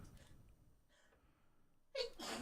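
A person sneezes during a livestream watch party: a sudden sharp burst after a quiet stretch with faint breathy sounds, heard fairly close to the microphone.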